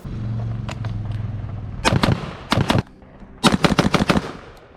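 An HK MR556A1 rifle with an open muzzle device on a 16.5-inch heavy barrel fires three loud, close bursts of sharp shots, first a pair, then a short cluster, then a rapid string, over an outdoor background.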